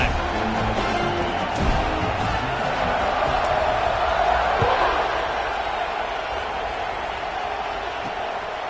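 Stadium crowd in the NCAA Football 26 video game, Miami Hurricanes vs Penn State Nittany Lions, roaring steadily during a kickoff, a dense broad wash of cheering that swells slightly midway and holds under commentary.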